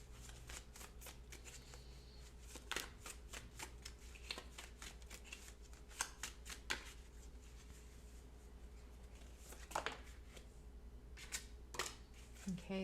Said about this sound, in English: Once I shuffle the cards